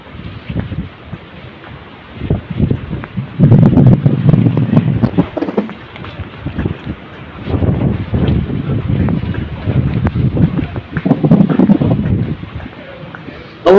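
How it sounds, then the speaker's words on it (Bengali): Strong gusts from Cyclone Remal buffet the microphone on a coastal ferry terminal after morning rain, a loud continuous low roar swelling in waves and rumbling throughout, with a few faint voices beneath. "আসলে বাতাস এত বেশি যে ক্যামেরা ধরার ব্যালেন্স ঠিক রাখা খুবই টাফ।"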